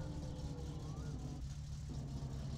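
Satsuma car engine with a fault in the video game My Summer Car, a low, steady idling drone with a faint rising whine, quiet and continuous, with brief talk.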